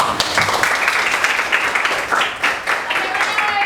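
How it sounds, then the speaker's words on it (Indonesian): A classroom of students applauds after a group presentation, a steady, moderately loud wash of clapping across the whole stretch with some voices mixed in. "Oke, tepuk tangan dulu."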